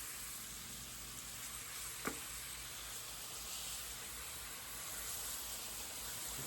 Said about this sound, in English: We're gonna put a few of these shrimp in here.